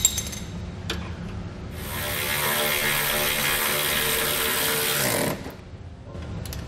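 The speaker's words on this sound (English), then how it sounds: "Now we'll torque that down to the specifications listed in our instructions." Ratcheting wrench drawing a replacement bolt tight on a Draw-Tite trailer hitch receiver under a 2013 Buick LaCrosse, a steady run of close mechanical clicking for about three and a half seconds between brief knocks, with no talk.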